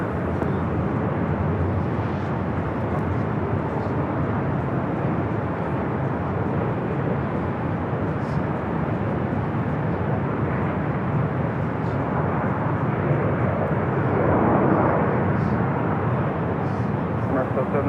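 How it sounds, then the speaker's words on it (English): A Boeing Dreamliner jet arriving from Paris at LAX, a continuous broad engine roar and rumble that swells slightly near the end, with radio chatter faintly audible beneath it. "That's the Dreamliner coming in from Paris."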